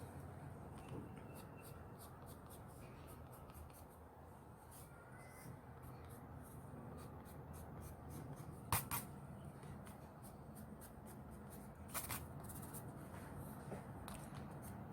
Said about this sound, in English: the reason why I'm using soft pastel pencil, because you can really blend it in